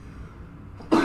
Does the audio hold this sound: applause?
no